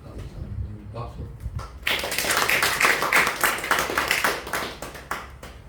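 A church congregation at a Sunday worship service breaks into clapping after a short stretch of talk, many hands close and lively for several seconds before fading.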